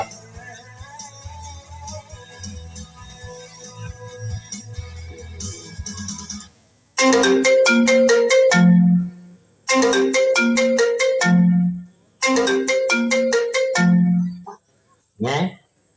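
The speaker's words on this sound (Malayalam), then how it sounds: "ഫോണല്ലേ അടിക്കുന്നത്?" A mobile phone ringtone plays loudly in repeated bursts of a melodic tune with short gaps, following a stretch of background music on a village stage play.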